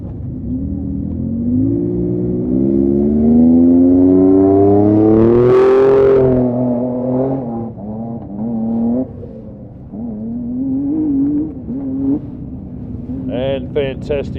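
An off-road race car leaves the start line at the CanAm Loveday 400 in South Australia, its engine rising in a long rev, then shifting through gears as it pulls away. A commentator talks over it throughout.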